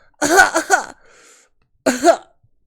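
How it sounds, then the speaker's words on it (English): A person nearby coughs twice, a short burst of harsh coughs followed after a pause by another cough. "It's coughing."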